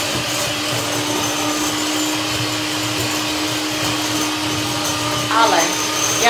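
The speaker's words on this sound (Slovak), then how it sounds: "A mixujem a miešam. A teraz to hučí." A blender whips a homemade face cream, its motor giving a loud, steady, continuous hum close up for the whole stretch, with a brief rise in pitch near the end.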